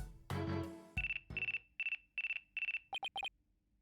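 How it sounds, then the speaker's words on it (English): A phone ringtone from the courtroom video game Phoenix Wright: Ace Attorney – Dual Destinies plays as a series of short repeated electronic tones, loud and clear on their own, speeding into quicker chirps toward the end. "It looks like I have a phone call."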